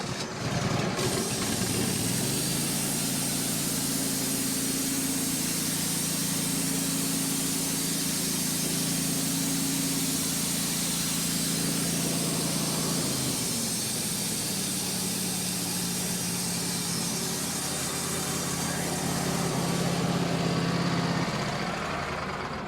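A Wood-Mizer LT-15 sawmill cuts through a pine log, its engine droning loud and constant with a steady rasping blade whine that shifts pitch midway, then dips and swells again.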